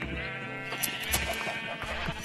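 Sheep bleat repeatedly in a Minecraft survival game, the blocky game-animal cries recurring in short bursts over a steady background of game music and ambience.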